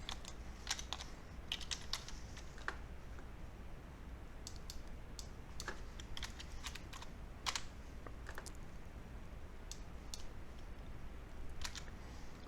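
Quiet, steady typing on a computer keyboard while chart data is entered into astrology software, a continuous patter of light key clicks with no voices.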